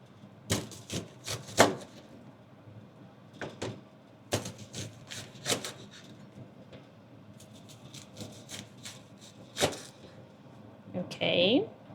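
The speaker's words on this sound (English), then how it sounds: "This is the way that I chop the onion." A knife slices an onion on a cutting board, sharp separate chopping taps in small clusters with quieter gaps, close and moderately loud, and a person speaks over part of it.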